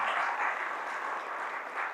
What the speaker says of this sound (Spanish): Dele ese fuerte aplauso a nuestro Dios.